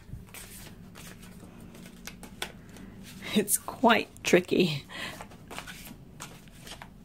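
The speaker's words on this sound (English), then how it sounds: "if I have to shuffle" Crystal Ally oracle cards are shuffled by hand in a few quick riffling bursts, close and fairly quiet, while a person speaks softly over them.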